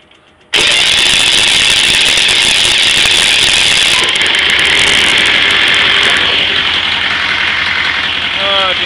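The engine of a lubrication and air service trailer cranks and catches, then runs steadily at a loud, close idle with a hard-starting, slightly uneven tone.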